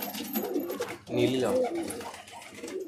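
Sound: pigeons cooing

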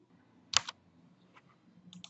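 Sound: typing on a computer keyboard, pressing Enter

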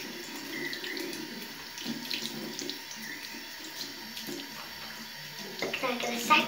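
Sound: tap water running while rinsing a toothbrush

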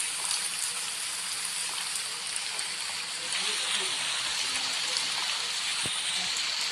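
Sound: rain in the subway horror video game

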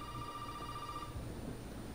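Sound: telephone ringing in the video game Resident Evil 7

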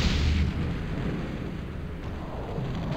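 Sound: target explosion in video game Battlezone 2

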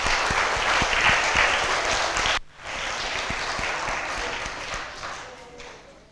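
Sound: audience applause

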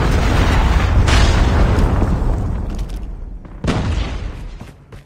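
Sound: predator missile explosion in a video game

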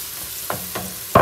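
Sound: frying onion and spices in a pan

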